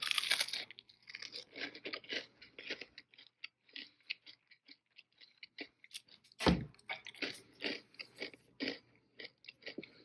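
Crispy food cooked in a Bella Pro Series 2-qt digital air fryer is bitten and chewed up close, with loud, repeated crunches in an uneven rhythm over about ten seconds and no talk.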